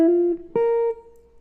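Clean jazz guitar plays two sustained notes, the second struck sharply and ringing briefly before fading out. The notes are close and clear.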